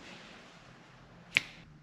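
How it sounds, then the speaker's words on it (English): A single sharp finger snap lands near the middle, close and crisp against a quiet garage-like background with no talk. "You just gotta snap your fingers like this"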